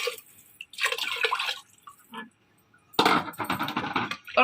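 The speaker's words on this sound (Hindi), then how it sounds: "अब इसमें मैं पानी शामिल कर देती हूँ, करीबन 3 गिलास।" About three glasses of water are poured into a pressure cooker holding masoor lentils browned in oil, making splashy bursts of pouring and dripping separated by short pauses, close and fairly loud, with no talking.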